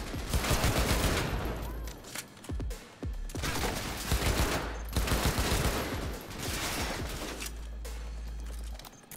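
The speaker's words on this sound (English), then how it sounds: "Is that a fucking turret?" Sustained turret gunfire in Cyberpunk 2077, loud, rapid bursts of automatic shots that repeat with short gaps between volleys and no voices over them.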